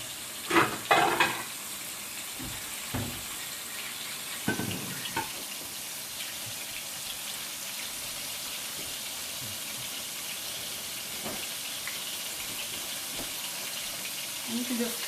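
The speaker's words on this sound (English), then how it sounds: "And I'm going to let these brown on each side, about 3 minutes per side" Cube steaks browning in a frying pan give a steady, broad hiss of sizzling fat that runs throughout, broken near the start by a few clattering knocks, with faint speech at times.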